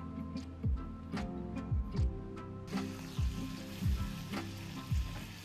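Butter or fat sizzles loudly in a pan while paprika and meat fry, a dense crackling hiss with repeated scraping stirs of a utensil at regular intervals.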